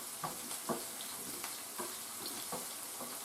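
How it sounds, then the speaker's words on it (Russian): Gentle sizzle of onion frying in a pan, with a steady hiss and a few soft clicks of stirring, no voices. "Забросили мы лук, ребята, и будем до золотистого цвета его жарить."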